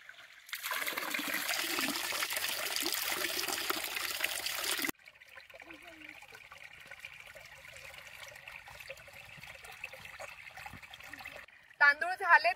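Indrayani rice is washed with water outdoors on a mountainside: a loud, steady splashing rush for several seconds, then a softer trickle with a brief burst at the end.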